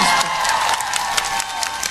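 A crowd at an outdoor political campaign rally in Korea applauds and cheers to welcome a senior Buddhist monk, dense clapping at full loudness for a couple of seconds.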